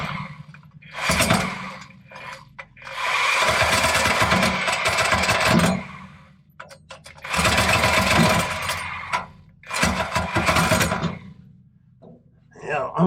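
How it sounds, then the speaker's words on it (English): Sawzall reciprocating saw cutting metal at a forge shop, loud buzzing bursts of rapid rattling strokes in several runs of two to three seconds, separated by short pauses, close up. "Problem with the Sawzall is it cuts when it pulls back towards the trigger."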